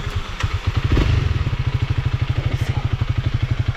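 Motorcycle engine in Vietnam revving as the bike is pushed along, a close, loud pulsing throb with rapid regular firing beats and a brief throttle surge near the start.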